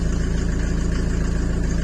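A cold Mercedes OM 601 2.3-litre diesel van engine idles just after starting in light frost, a close, steady knocking rhythm of rapid even pulses without any voices.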